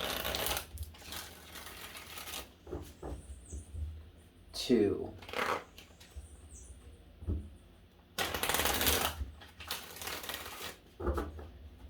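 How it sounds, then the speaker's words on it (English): Tarot cards are shuffled by hand in several quick, rustling bursts, with a person speaking between and over the shuffles. "3 shuffles for you, Gemini."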